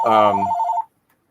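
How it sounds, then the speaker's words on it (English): A telephone rings once, a loud close electronic ring that cuts off abruptly, leaving near silence afterward. "An unwelcome phone call right there."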